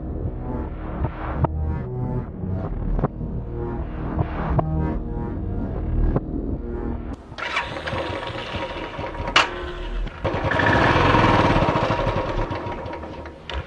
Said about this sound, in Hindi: आपकी मोटरसाइकिल स्टार्ट हो गई है